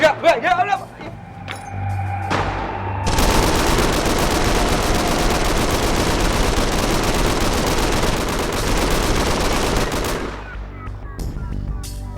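Sustained burst of automatic gunfire in a Pakistani drama scene, loud and dense, running for about seven seconds before cutting off, with a few brief sounds before and after.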